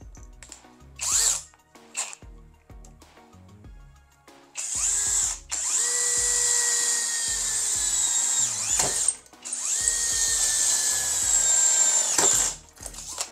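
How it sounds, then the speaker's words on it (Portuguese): A brushless power drill drilling into metal whines loudly in several sustained bursts, speed rising and falling, with short start-stop pulses at first and a steady high-pitched grind after. "E agora nós vamos fazer o teste furando metal."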